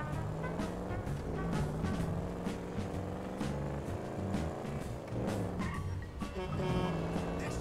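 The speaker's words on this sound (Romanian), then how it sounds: "Să dau volum mai tare să auziți cum sună mașina asta" A modded BMW in the video game GTA 5 revs its engine loudly and steadily, with harmonic engine tones rising and falling over several seconds and brief sharper bursts.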